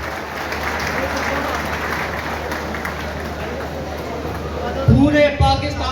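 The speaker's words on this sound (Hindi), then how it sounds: "भरपूर तालियों में जी।" A crowd at a Pakistani teacher-discipleship ceremony applauds a newly honoured champion. Thick, continuous clapping fills the space for about five seconds, then a voice breaks in over the tail end.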